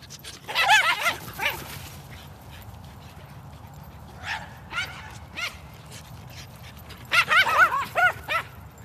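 A dog whimpers and yips in high, pitched bursts, then barks in a quick cluster near the end, loud and close with quieter whines between.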